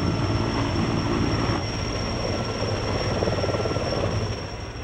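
A sky crane helicopter working over a golf course, lifting and setting prefabricated bridges, gives a steady, loud rotor and engine roar that holds constant throughout with no voices.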